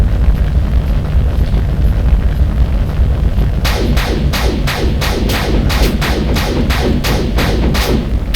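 A spaceship crashing on a kamikaze run in the Space Fighter VR game sets off a loud explosion over a dense rumbling roar, followed by a rapid series of sharp, evenly spaced crackling bursts.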